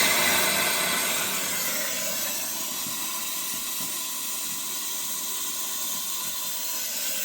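Safety valve on a water-tube steam engine blowing off steam as pressure rises after the burner cuts off, a loud continuous hiss that starts strong and settles into a steady rush, close by.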